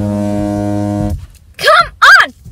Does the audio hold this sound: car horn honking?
yes